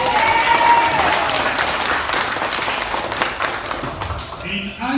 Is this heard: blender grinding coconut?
no